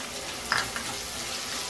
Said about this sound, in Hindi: प्याज डालेंगे।